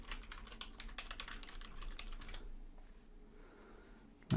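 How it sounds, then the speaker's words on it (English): Quick, close clatter of keys on a computer keyboard as a document library name is typed, a dense burst of keystrokes for a couple of seconds before it falls quiet. "I need to type in the name of the document library correctly"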